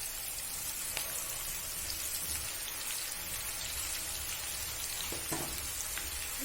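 Mutton keema kofta balls fry in oil left from frying onions for birista, giving a steady close crackling sizzle with scattered pops and no voices.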